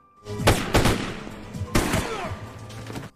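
Several sharp gunshots crack out in quick bursts near the start, then another volley follows, echoing with a rumbling tail.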